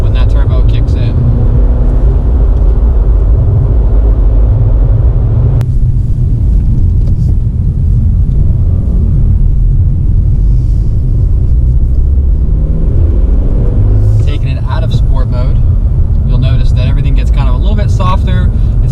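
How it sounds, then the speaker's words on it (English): A 2018 Honda Civic Si's turbocharged engine pulls hard under acceleration, a loud, steady low rumble filling the cabin throughout, with talk breaking in near the end. "the car definitely throws you back in the seat when that turbo kicks in"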